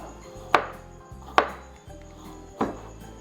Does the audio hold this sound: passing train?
no